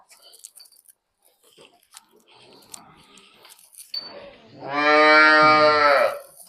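Jersey and HF cross cattle on a farm give one long, loud, full-throated moo near the end, preceded by soft rustling and faint, low voices.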